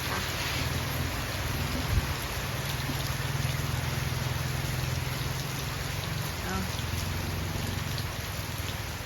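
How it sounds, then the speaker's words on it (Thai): Heavy rain pours steadily over a house whose roof is damaged, with water running inside, forming a constant dense hiss with a low watery rumble and a few faint knocks. "ดูฝนเข้ามาแล้วดูน้ำไหลท่วมทะลักเข้าบ้าน"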